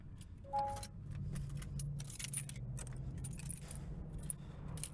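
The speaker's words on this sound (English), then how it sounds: "I'll even take the house key off before I sell it." Keys jangling close up as a house key is worked off a car keychain, a string of light metallic clinks and rattles over a low steady hum inside a car.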